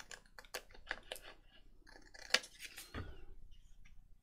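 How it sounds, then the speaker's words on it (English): Scissors snipping and trimming paper for a handmade spring-themed journal, a series of close, crisp cuts spaced irregularly, with one sharper snip partway through and no talking. "So I'm just cutting around that"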